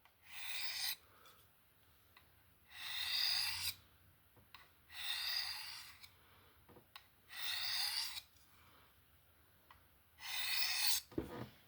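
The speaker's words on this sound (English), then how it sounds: "ceramic rod here and just give it a little hone." A Strider SMF knife with a PVD-coated Magnacut blade is honed on a small ceramic rod, giving five separate scraping strokes at a steady, unhurried pace, close and quiet.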